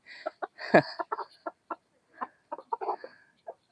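Black-fleshed Kadaknath chickens cluck in a series of short, sharp calls, close and distinct, scattered irregularly across a few seconds against an otherwise quiet background.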